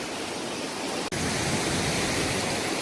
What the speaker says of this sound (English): Kedarnath trek is filled with streams